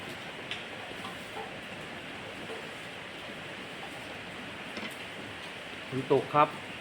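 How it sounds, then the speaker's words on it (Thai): Steady rain hisses as a continuous wash of noise, with a few louder thuds and taps near the end. "ฝนตกครับ"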